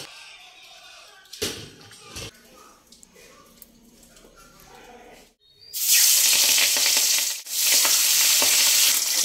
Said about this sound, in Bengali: মাছ ভাজা হয়ে গেছে, এবার মাছগুলোকে তুলে ফেলবো।